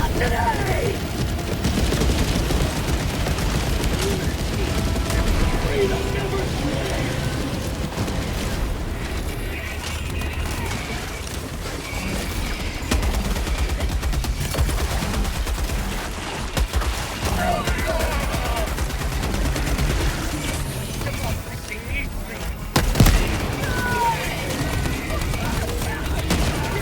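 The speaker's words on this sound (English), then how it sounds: "Requesting orbital. Orbital barrage incoming." Orbital barrage in Helldivers 2, a continuous dense rumble of repeated explosions and gunfire throughout, with voices speaking over the din.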